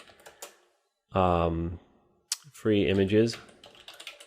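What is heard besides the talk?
typing on a computer keyboard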